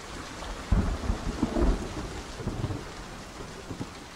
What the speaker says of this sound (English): it was pouring rain